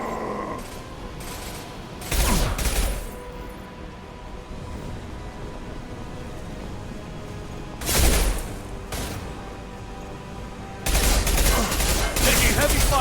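Bursts of gunfire in Mass Effect 2 ring out in three loud volleys separated by quieter stretches of combat noise, with scattered shorter shots and some talk in between.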